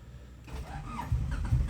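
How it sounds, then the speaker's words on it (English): A car with a high-compression engine and stainless headers cranks and fires up close by, a sharp start settling into a low, rough idle rumble. "Start the car now."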